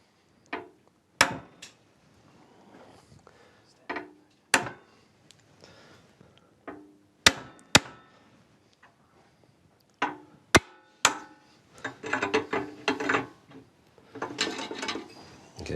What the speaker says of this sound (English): Now, this is actually a legitimate use of a hammer.